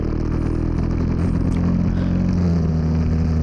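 A GX-UK go-kart engine drones steadily and loudly on a track, holding a continuous, slightly rising buzz for a few seconds, close up with no talking.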